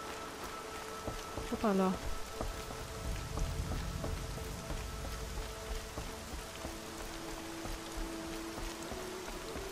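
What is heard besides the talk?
rain in a video game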